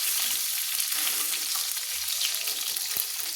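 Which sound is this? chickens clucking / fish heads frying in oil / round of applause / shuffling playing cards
fish heads frying in oil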